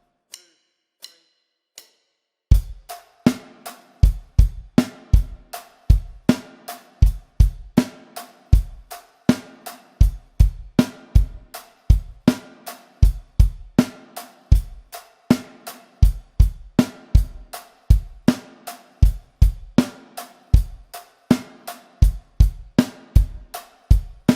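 After a few count-in clicks, a drum kit plays a steady rock beat with punchy kick and snare hits in an even, repeating pattern.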